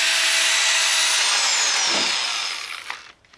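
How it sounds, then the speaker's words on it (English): A power drill sanding a Nissan 350Z headlight lens whirs loudly and steadily with a high whine, then winds down and stops, leaving a few small clunks. "once I am done with the drill, I'll go ahead and take it off again"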